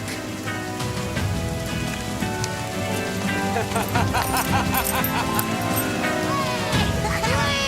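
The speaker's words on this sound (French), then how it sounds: "Heureusement qu'il pleut." Steady rain patters throughout, mixed with tonal, music-like sounds layered over the downpour.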